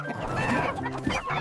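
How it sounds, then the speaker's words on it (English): A chicken on a farm clucks in a short, close run of soft, throaty calls with no other sounds. "Cluck, cluck."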